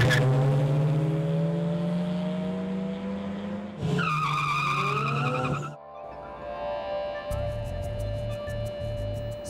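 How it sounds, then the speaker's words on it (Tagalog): Car engines roar and tires squeal at an illegal street race on a city road at night, loud revving passes sweeping by close, then a rhythmic mechanical pulsing joins near the end. "Ang katahimikan binabasag ng ingay mula sa mga nagngangalit na tunog ng makina ng kotse."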